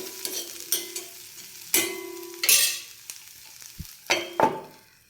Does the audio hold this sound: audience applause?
no